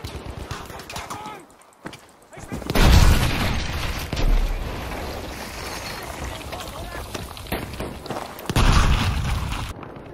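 A grenade explosion in Battlefield V combat, a heavy low boom that erupts and rumbles out amid battle noise and shouted voices, followed later by another deep blast.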